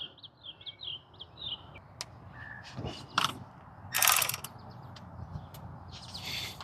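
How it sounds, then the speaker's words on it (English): A ratchet loosening 14mm brake caliper bolts on a Hyundai Sonata, heard as short mechanical clicking and ratcheting bursts with a clank or two. Birds chirp faintly in the background and nobody talks. "take off the 14mm bolt here at the top, and then the 14mm bolt right here at the bottom"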